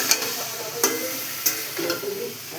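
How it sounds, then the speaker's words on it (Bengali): Water poured into a hot pan of mixed vegetables sets off a sizzle, with a few sharp ticks and clinks from stirring over a steady, fairly quiet frying hiss. "একটুখানি জল ঢেলে দিচ্ছি"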